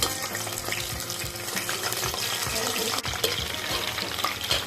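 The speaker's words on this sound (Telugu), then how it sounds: "అందుకని నేను ఆయిల్లో ఫ్రై చేస్తున్నాను" Cauliflower pieces for a spicy, tangy pickle fry lightly in hot oil, giving a steady, close sizzle and crackle with watery bubbling that runs throughout without a break.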